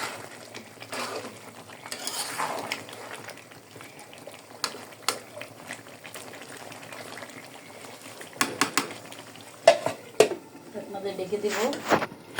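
Meat and salted potatoes frying in a pot while a utensil stirs and scrapes: soft sizzling underneath, with sharp metallic clinks and scrapes that cluster toward the end, and a voice talking at times.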